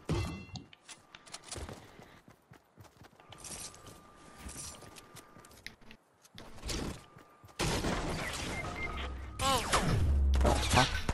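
Fortnite Battle Royale gunfire pops in scattered bursts under excited player chatter, building to dense, loud, rapid shooting near the end.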